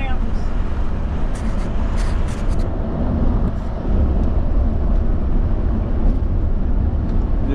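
An RV driving on a highway in the Pacific Northwest gives off a steady, loud rumble of engine and road noise that stays constant throughout, with no pauses.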